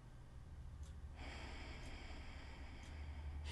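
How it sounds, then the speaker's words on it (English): Deep yogic breaths during a flowing yoga session, a slow audible inhale drawn in and held faintly, close and quiet with no talking. "One more round of breaths here"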